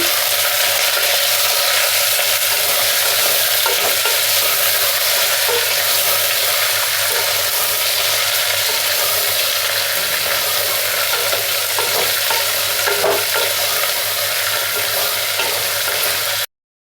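Potato, carrot, cluster beans and ginger fry in a pan for little millet khichdi. A loud, continuous sizzle runs for about sixteen seconds, with faint stirring scrapes and no talking.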